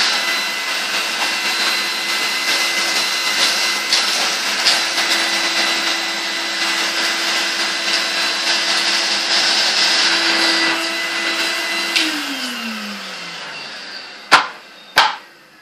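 A 1990 Numatic Henry vacuum cleaner with its standard head sucks up flour, Cheerios, oats, dust and pet hair, whining steadily and loudly before powering down with a falling pitch, followed by two sharp knocks.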